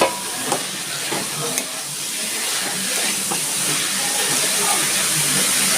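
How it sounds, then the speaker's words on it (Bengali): Red lentils frying with cooked spice paste in a pan while being stirred, a steady sizzling hiss with a few scraping stir knocks early on. "এবার মশলাটা আমি আস্তে আস্তে করে একটু ভালো করে কষিয়ে নিচ্ছি। আমার মশলাটা কষানো হয়ে গেছে, আমি এবার মসুরির ডালগুলো দিয়ে দিচ্ছি।"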